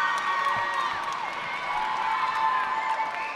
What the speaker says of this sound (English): Gibraltar crowd trying to raise their team